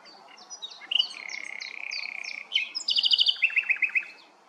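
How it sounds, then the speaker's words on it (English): A nightingale sings at RSPB Minsmere in Suffolk, a clear, close phrase of rapid whistles, a long sustained note and fast repeated trills, standing out over a quiet background. "word has got out that this is the place to hear a nightingale"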